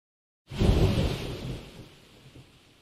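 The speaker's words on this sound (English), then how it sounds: "Like you've got to dodge a lightning spell." Thunder crack from a lightning spell in a trivia quiz video game, bursting in after silence with a loud booming onset and a rumble that fades over a couple of seconds.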